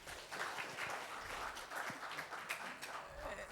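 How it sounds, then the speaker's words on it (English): An audience claps in a steady, muffled patter of applause that continues for a few seconds. "Please, a round of applause."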